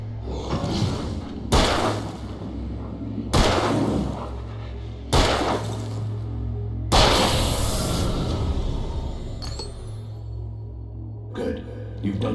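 Gunshots from a gun in the video game Alan Wake, four or five loud, heavy blasts spaced about two seconds apart, each ringing out over a low droning backdrop.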